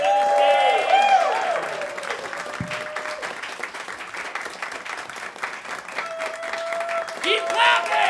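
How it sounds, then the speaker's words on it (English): A comedy club audience claps and cheers continuously for a comedian, a dense steady patter of applause with shouts and whoops at the start and end. "Keep clapping."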